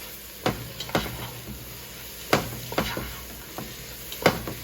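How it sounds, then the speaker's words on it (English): Food being stirred together in a hot pan, a spoon scraping and knocking through the mixture in several separate strokes over a low sizzle. "And now you're gonna stir them together."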